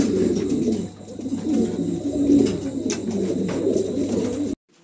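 Domestic pigeons, fancy breeds kept for sale, cooing in low repeated throaty rolls close by over a steady background hum, cutting off abruptly at the end.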